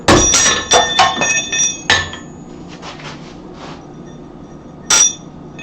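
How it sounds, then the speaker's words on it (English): Metal hammer strikes on a soapstone holder come as several sharp, loud clinking blows in quick succession, a pause, then one more hit. "Hammer it down."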